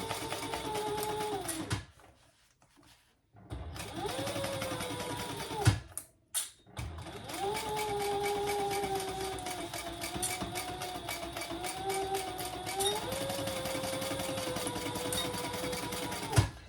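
A sewing machine stitches back and forth over a D-ring on a small wristlet bag at 3.5 stitch length, a steady close whirring hum broken by two short stops, then running on for a long stretch.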